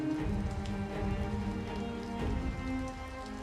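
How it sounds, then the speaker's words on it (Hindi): Heavy rain falls as a cartoon sound effect, a dense continuous patter and rumble without pause, fairly soft and steady, with no voices. "कड़की और भयंकर बारिश फिर शुरू हो गई।"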